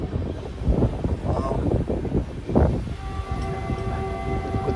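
Sampark Kranti SF Express train running near Gooty junction, a steady rumbling rush of wheels and carriage noise with wind buffeting, heard from on board throughout without talk.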